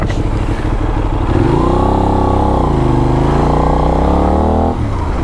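A Benelli 752S motorcycle engine revs hard and close, its steady harmonic drone climbing in pitch, dipping, then rising again before dropping off near the end, loud and with no voices.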